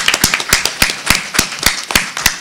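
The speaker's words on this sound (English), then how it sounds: "let's give her a round of applause from New York" Sparse applause from a small audience at a panel event, a handful of distinct, crisp claps in an uneven rhythm, close and fairly loud with no voices.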